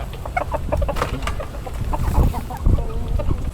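Backyard laying hens cluck in short bursts at close range, with scattered rustling and bird calls around them and no talk over the sound.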